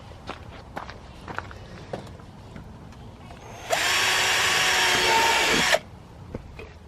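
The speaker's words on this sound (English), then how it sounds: "we're going to drill 2 new holes through here" A power drill whirs steadily for about two seconds, loud and close, drilling holes through a racing splitter for a Ford Fiesta ST180, between quieter scattered taps and handling noises.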